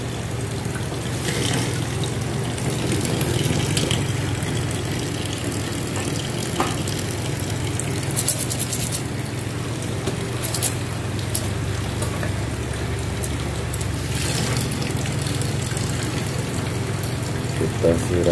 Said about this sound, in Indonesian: Kita kasih air dikit ya.